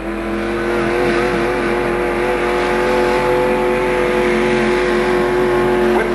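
A Chev 307 V8 in a tractor pull vehicle with a Mohawk rear roars loud and sustained at high revs at an outdoor pulling event, a steady harmonic-rich engine drone with no talking.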